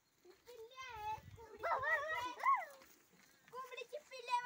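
A dog barks and yips near a farmyard with cows and chickens, giving a few short, whiny barks over about four seconds, with voices that sound like someone talking nearby.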